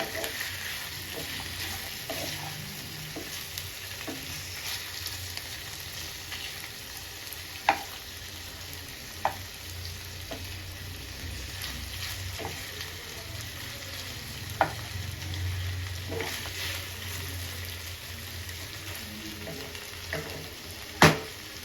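Chicken sizzles steadily in oil in a pan at home, a constant close frying crackle with occasional sharp clinks of a stirring utensil against the pan.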